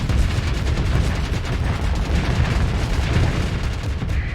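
Continuous heavy spaceship firefight in Starsector, a dense rumbling barrage of rapid weapon fire and booms, loud and unbroken with no voices.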